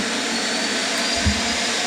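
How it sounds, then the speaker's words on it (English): Steady vacuum cleaner drone running close and loud throughout, an even broadband roar with a brief low thump near the end. "vacuum cleaner would go off in the middle of the video"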